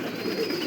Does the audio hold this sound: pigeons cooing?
yes